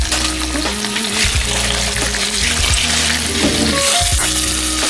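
Tortilla chips fry in a pan of bubbling oil for a Mexican breakfast, giving a loud, steady sizzle with crackling bursts and occasional low clatters as the chips go in and get moved around.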